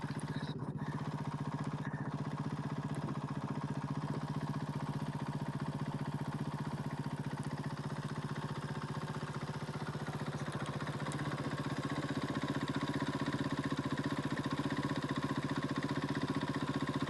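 Monster Energy Honda rally motorcycle idling at a desert rally stage start on a cold morning, a steady low engine drone with faint clatter running unbroken throughout, moderately close.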